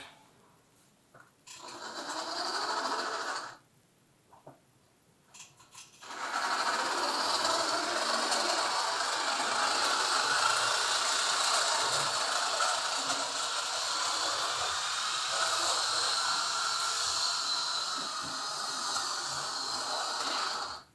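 Tyco AFX metal T-jet slot car buzzing around a track with a dry, ungreased motor, a thin whirring hum that starts in short bursts then runs continuously, clicking over rail joints, fairly faint with no talking.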